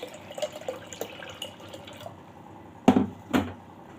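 Water splashes steadily into a pot for a couple of seconds, then two sharp metallic clunks follow close by.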